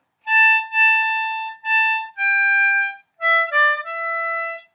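Harmonica playing a House of the Rising Sun line including the 6-blow hole, a handful of clean sustained notes in short phrases with a slight downward bend near the end, close and alone.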